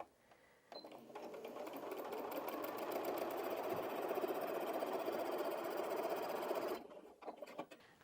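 A Janome 5270QDC sewing machine stitches a line in one steady, fast mechanical run lasting about six seconds, starting and stopping abruptly, close and moderately loud.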